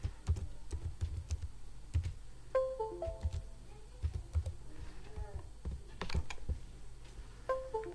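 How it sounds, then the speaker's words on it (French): Someone types on a computer keyboard while entering a password, producing quiet, close, irregular key clicks in quick bursts with short pauses, plus a few faint beeping tones between strokes. "Je tape."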